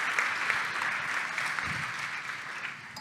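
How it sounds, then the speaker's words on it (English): An audience at an open spaces opening ceremony claps in a dense, steady round of applause that carries on for a few seconds at even strength. "Good round of applause for Christina, Sebastian, and Jan"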